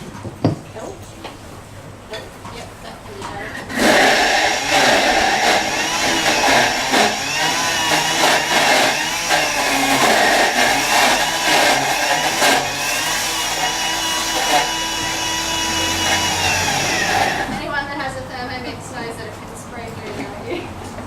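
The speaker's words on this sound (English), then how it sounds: "So basically you need a food processor. Just throw all of your greens in and then mix them up." A food processor whirs through leafy greens for homemade cat and dog food, a loud, steady, harsh motor roar that starts abruptly, runs for about thirteen seconds and cuts off.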